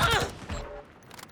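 A rapid burst of AUG rifle gunfire in Call of Duty Modern Warfare, several close sharp shots running together, then fading into a brief tail.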